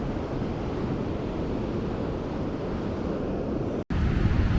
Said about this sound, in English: Those waves are good for surfing, I reckon.